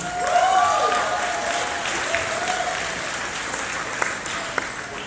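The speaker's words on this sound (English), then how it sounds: "Give her a round of applause, ladies and gentlemen" Audience at a university engineering graduation ball gives a sustained round of applause, steady dense clapping filling the hall, fading slightly toward the end.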